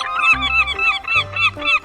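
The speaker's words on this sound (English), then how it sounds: "Seagull." A seagull gives a rapid series of harsh, honking calls, three or four loud close squawks in quick succession with no other sound around them.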